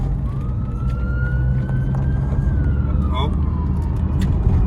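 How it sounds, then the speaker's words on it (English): Emergency sirens wail in the distance, one rising and gliding tone audible over a steady low rumble of road and engine noise inside a moving car. "Loads of sirens in the background."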